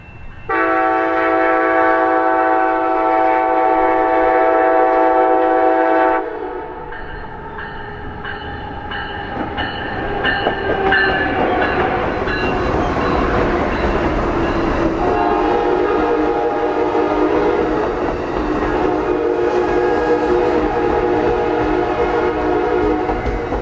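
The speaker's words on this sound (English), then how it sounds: "Amtrak 390, the northbound Saluki, is the morning train from Carbondale to Chicago." Amtrak 390, the northbound Saluki passenger train from Carbondale to Chicago, arriving at Centralia: a long, loud steady horn blast, then the rumbling, clattering roll of the train passing close by, with further faint horn tones.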